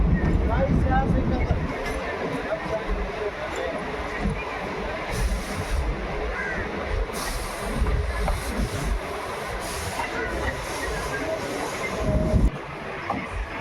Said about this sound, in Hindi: लोकोमोटिव का साउंड भी अच्छे से सुनाई देता है